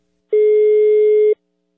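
A single steady telephone tone lasts about one second, loud and clean against silence, on a phone line during a prank call.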